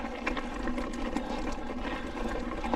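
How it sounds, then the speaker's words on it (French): A small waterfall on a hiking trail gives a steady, even rush of falling water that runs the whole time, close and fairly loud, with no voices. "Une cascade, hein."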